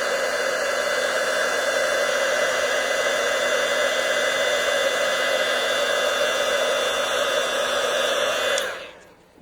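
A heat tool melting embossing powder, a steady loud whirring blast of hot air running unbroken and close for several seconds, then switching off and winding down at the end, with no voices.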